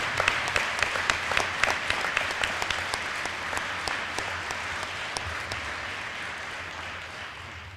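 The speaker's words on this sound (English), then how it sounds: "please give them a round of applause" An audience at a union Black History program applauds family and friends being honored, a steady, moderately distant round of clapping with crisp individual claps early on, gradually softening.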